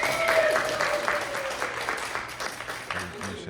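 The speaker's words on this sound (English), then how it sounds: "Big round of applause for James." An audience gives a round of applause for a guest named James at a live talk event, steady dense clapping throughout with a voice briefly speaking over it.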